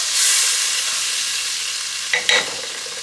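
Butter melts and sizzles steadily in a pot over a low flame while mac and cheese is being made, with a couple of brief stirring scrapes near the end.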